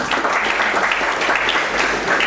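An audience at an academic conference applauding steadily, dense clapping that fills the whole moment at an even, fairly loud level.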